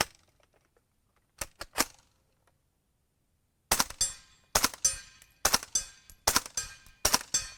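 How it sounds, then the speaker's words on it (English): A suppressed 9mm Steyr AUG SMG fires from a 16-inch barrel: three quick cracks, a pause, then seven evenly spaced muffled shots, each sharp but subdued, close by with no talk. "this gun, even out of a 16-inch barrel, shooting 147s and stuff, is stupid quiet"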